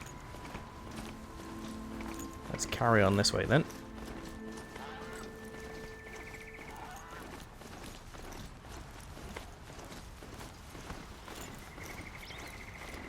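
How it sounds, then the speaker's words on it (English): Horse hooves clip-clopping and a brief neigh from a horse in the Horizon Zero Dawn video game, with a louder burst around the middle, heard under a man's speech and game ambience. "Horse managed to make its way up here."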